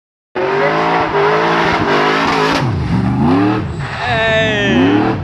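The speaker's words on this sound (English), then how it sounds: "Apparently that Jeep's in the back. You can probably hear it." A Jeep revs its engine and pulls away at a car meet, a loud, rising roar with tire noise, heard behind close voices talking over it.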